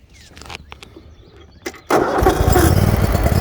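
Cub Cadet Z-Force 48-inch commercial zero-turn riding mower engine starting: a short cranking burst, then the engine catches and runs loud and steady at close range, with no talk.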